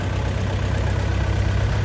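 A DTZ 5404 K mini tractor engine running steadily nearby, a constant chugging hum with no talk.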